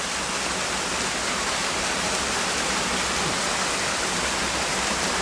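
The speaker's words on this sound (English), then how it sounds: "Next waterfall." A double waterfall, one small fall beside a big one, pours in a steady, loud, broadband roar that stays constant throughout with no other sounds.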